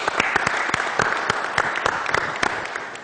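An audience at an event with a stage applauds steadily, with dense, close clapping throughout.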